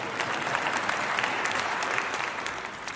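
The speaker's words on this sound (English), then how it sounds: "But you can go ahead and clap." Congregation at Moody Church applauds, a steady wash of dense clapping from many hands held evenly for the whole stretch.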